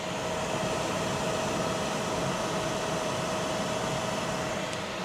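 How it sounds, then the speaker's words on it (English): A DJI Power 2000 portable power station's cooling fan runs as a steady, even rush of white noise with a faint tonal hum, recorded up close and unbroken. "Let me lean in here so you can hear what the fan sounds like."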